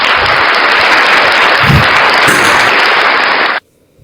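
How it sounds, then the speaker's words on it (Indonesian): A church congregation applauds in a dense, loud wash of clapping lasting about three and a half seconds before cutting off abruptly. "tepuk tangan buat Tuhan."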